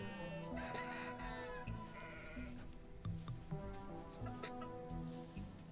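Sheep bleat repeatedly in a farming video game, several overlapping calls layered with clucking chickens, close and fairly loud without any talk.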